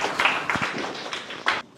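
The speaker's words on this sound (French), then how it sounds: "Applaudissez encore plus fort." A crowd at a French-speaking ceremony claps in a short, dense patter of hand claps. The burst is fairly close and ends abruptly, with no talk over it.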